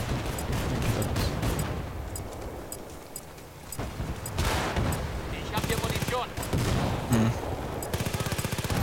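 Rapid submachine gun bursts in a Battlefield: Bad Company 2 firefight, sharp repeated volleys that return loud and dense toward the end, with other battle noise between them.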